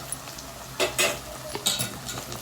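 Onions frying in a pan turn golden under stirring, with a soft sizzle broken by a few loud scraping, clattering spoon strokes against the pan, close by and free of speech.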